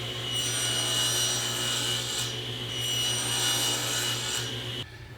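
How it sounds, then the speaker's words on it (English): A hand saw cuts the shoulders on the top and bottom of a wooden tenon stock, giving steady continuous rasping strokes close up, running evenly for about five seconds before stopping abruptly. "the first thing I'm going to do is make my shoulder cuts on the top and bottom of my stock"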